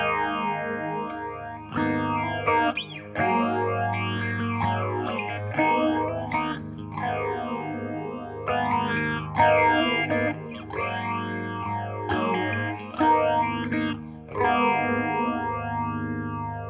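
Electric guitar through a Boss PH-2 phaser pedal in mode 1, sustained chords with a deep, sweeping swirl that rises and falls continuously, loud and unbroken.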